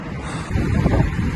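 Wind gusts buffet the microphone with a low rumble, strengthening after the first half second and staying steady, with no talking.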